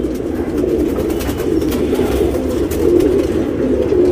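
A tournament racing pigeon gives a close, continuous low throaty cooing that stays steady and loud throughout, with no talking.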